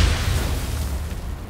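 A grenade goes off in a Call of Duty match as a deep, booming blast with a rumbling tail that fades over about a second and a half, loud and close with no speech.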